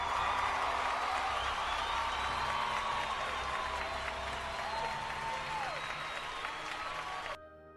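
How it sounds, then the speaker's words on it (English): Audience applause at a comedy news segment, a dense sustained wash of clapping from a large crowd with a few cheers, fading out abruptly near the end. "So we'll give a round of applause for them."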